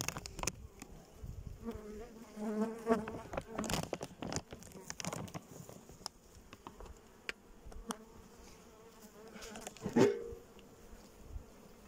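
Honey bees buzz around hive frames as they wait for syrup, a close, fluctuating drone with individual bees swelling past, over light handling noise.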